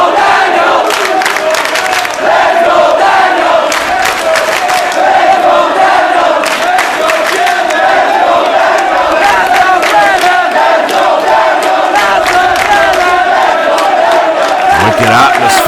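A large, loud crowd at a professional wrestling match cheers and chants continuously, the roar holding steady throughout, with scattered shouts and claps rising above it.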